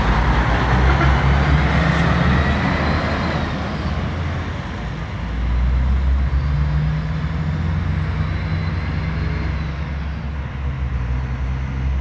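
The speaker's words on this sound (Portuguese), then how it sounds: "esse ônibus está indo para a rodoviária" A coach bus pulls away from a stop in Valadares, Brazil, its heavy diesel engine rumbling loudly at first, then easing and rising again with gear changes, road traffic noise continuing underneath.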